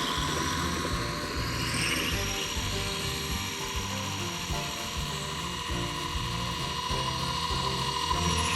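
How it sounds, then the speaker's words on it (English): A Blade 230 S radio-controlled helicopter in flight, its tail rotor whining steadily and shifting pitch as its speed changes, over a constant buzzing main rotor, close and loud throughout. "you could totally hear the tail propeller, the tail rotor, because it's constantly changing its RPM to control the helicopter"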